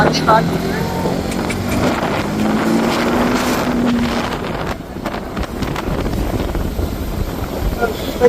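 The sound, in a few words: motorcycle riding at speed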